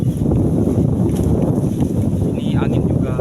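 Strong wind buffets the microphone in a continuous low roar, with faint chirps and other outdoor sounds in the background.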